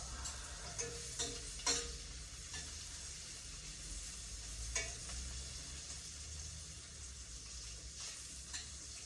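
Sausages and other brunch food fry hard in a hot skillet, a steady close sizzle and hiss with a few sharp pops and spatters.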